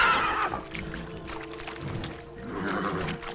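A horse in the video game The Witcher 3 lets out a neigh and whinny at the start, then snorts and breathes over faint hoof and ambient game sounds.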